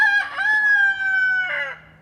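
A backyard coop chicken lets out a loud, close rooster crow lasting about two seconds, with a drawn-out middle and a rough clucking finish.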